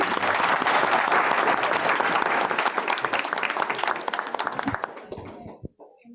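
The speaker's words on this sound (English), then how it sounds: "let's give them a round of applause" A conference audience applauds the panelists at a housing event, the loud, dense clapping holding steady and then thinning out to a few scattered claps before it falls silent.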